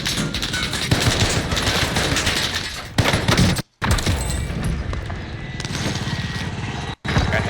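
Dense gunfire in Call of Duty Warzone on the Caldera map: sustained rapid automatic bursts and overlapping shots fill the scene, loud and continuous, with only two brief silent breaks, while voices talk over it.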